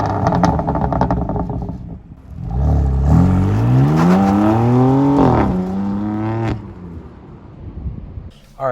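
A used BMW M4 pulls out onto the road. The engine note climbs loud and close, rises through a rev, then drops back to a lower drone.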